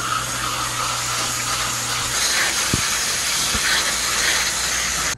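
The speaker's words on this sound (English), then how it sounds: "So if we spray it backwards of where it normally goes, should be able to rinse all that off" Water spray hosing backward through a clogged AC condenser coil, giving a close, continuous hiss that holds steady throughout, with a low machine hum under the first part and a couple of faint knocks.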